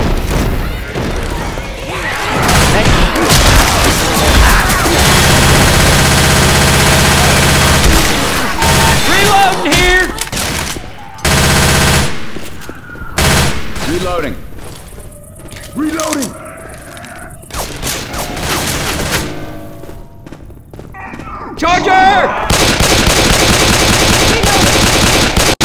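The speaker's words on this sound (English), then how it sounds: "Stop shooting me!" Gunfire in the zombie shooter Left 4 Dead 2: long, loud bursts of rapid automatic fire broken by pauses and single shots, with crashes and booms, while players talk and shout throughout.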